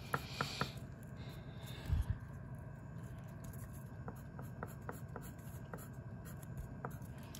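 A pencil sketches short, small strokes on paper while drawing Bowser Jr. The scratches are soft and close, in quick, irregular bursts over a quiet room.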